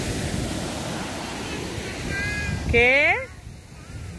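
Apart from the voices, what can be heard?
rough sea waves at the beach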